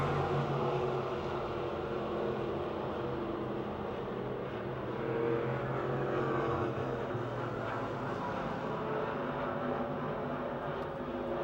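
Race cars roar around the Pennsylvania Motor Speedway dirt oval in a continuous, fairly distant rumble of engines that swells and fades slightly as the pack runs down the back chute.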